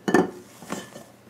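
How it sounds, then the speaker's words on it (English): A utensil folding chocolate mousse mixture made with soy in a bowl gives a cluster of close, clinking scrapes against the bowl, then a softer second scrape and quiet shuffling. "Gently fold. Just fold it in."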